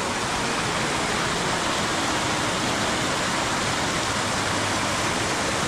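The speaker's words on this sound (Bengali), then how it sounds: "আর এই ঝর্ণার জল" A mountain waterfall and stream near Koraput in Odisha rush and splash in a steady, loud, broadband roar that fills the whole stretch without a pause.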